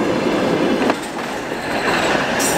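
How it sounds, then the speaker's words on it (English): A train rushes past close by, a loud, continuous roar of wheels and rattling cars with a brief metallic squeal. "It was the train!"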